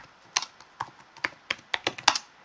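Typing on a computer keyboard while entering data into a spreadsheet, a short sequence of about a dozen close, distinct keystrokes at an uneven pace, with no talking.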